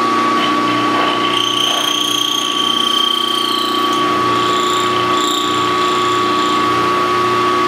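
A power carving tool plunges into the centre of a carved hoglet, giving a loud, continuous whining buzz with a steady motor tone and rough grinding texture close by, alone.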